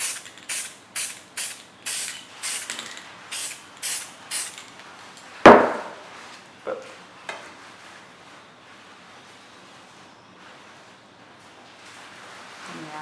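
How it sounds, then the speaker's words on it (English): Several short hissing bursts of a spray can in a quick rhythm, followed by a sharp knock and a few quieter clicks before falling silent. "Be sure you shake your spray can every time before you use it."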